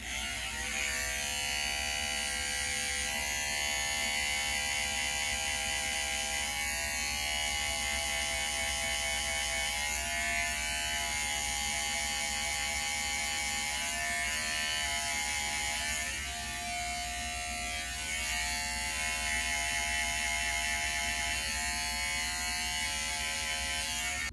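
An electric hair clipper fitted with a guard trims a beard, its steady close buzz droning continuously with slight shifts in pitch as it moves, and no talking.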